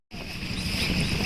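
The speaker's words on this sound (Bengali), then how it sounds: "বাতাস এমন হয়েছে ফোনই ধরে রাখা যাইতেছে না" Strong storm wind on the Jamuna River roars steadily and loudly into a phone microphone aboard a small boat, a dense, continuous rush that starts abruptly.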